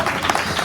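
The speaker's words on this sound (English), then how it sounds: "everybody give Tom another round of applause" A crowd at a wrestling banquet claps in a short, dense burst of applause that continues steadily throughout without any voices over it.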